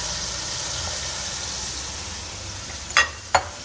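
Masoor dal sizzles softly in a pan with frying spices as it is stirred, a steady low hiss with two sharp scraping clinks of the spoon near the end.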